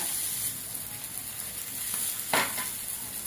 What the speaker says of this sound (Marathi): चांगली खरपूस भाजून घ्यायची.